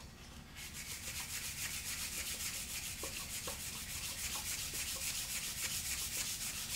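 Sandpaper rubs rhythmically and steadily against the finish of a Peavey Reactor guitar body, taking it down to bare wood, a close, continuous scratchy stroking.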